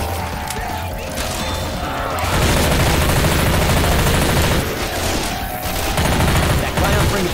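Rapid automatic gunfire roars through a Left 4 Dead 2 zombie fight in sustained loud bursts, with brief pauses between volleys and crashing impacts mixed in.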